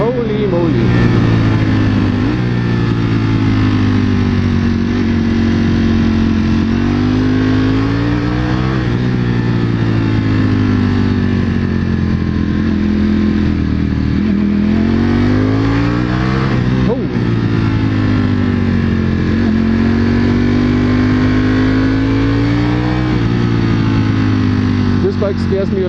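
A 2021 Ducati Panigale V4S motorcycle revs loudly as it is ridden, its engine note rising and falling through repeated gear changes, close and continuous throughout.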